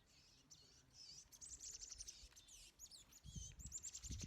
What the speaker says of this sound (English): some friendly little birds. They're scrapping over there.